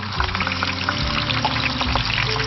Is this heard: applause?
no